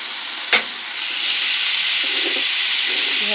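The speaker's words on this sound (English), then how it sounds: "And we are going to cook the bacon. Stir it because we don't want it to burn." Bacon frying in a hot pan gives a steady, close sizzle and hiss, broken early by one short knock as it is stirred, with no talking.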